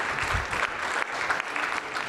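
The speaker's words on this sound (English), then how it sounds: "And while you're clapping" An audience at a physics fellowship symposium claps steadily after a talk, a brief dense patter of many hands heard close and evenly throughout.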